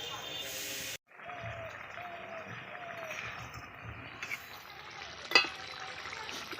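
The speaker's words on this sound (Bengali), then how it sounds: "এবার জল দিয়ে দেব।" Water poured into a hot pan of fried spice paste for a village-style Bengali fish curry, bringing a sudden cut then a steady hissing sizzle with a few louder spits as a person talks.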